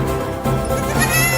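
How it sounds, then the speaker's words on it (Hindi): Cartoon baby goat bleating loudly and close, a single wavering, drawn-out cry that swells and fills the short moment. "अरे वाह बकरी का बच्चा"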